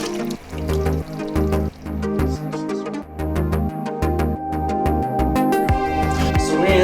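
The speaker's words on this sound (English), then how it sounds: "we're gonna go ahead and strain our sauce" Braised short rib sauce being strained and poured back into a pot, a steady close stream of liquid with dripping and splashing throughout.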